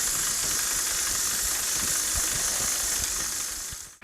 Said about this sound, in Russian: Вот мы таким вот способом шлифуем диск.